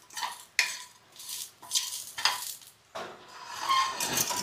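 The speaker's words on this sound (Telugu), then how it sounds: "ఇప్పుడు ఒక 10 గల వెల్లుల్లి రెబ్బలు వేసుకుందాం. ఇప్పుడే కొంచెం సేపు వేయించి పక్కకు తీసేసుకుందాం." Garlic cloves frying in a pan, heard as a bright sizzle broken up by several sharp utensil clinks and scrapes, with the frying growing louder and steadier toward the end.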